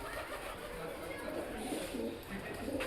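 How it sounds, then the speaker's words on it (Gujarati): A pigeon coos faintly in a few low, rounded calls, partly under people talking nearby, with a steady outdoor background. "કબૂતર"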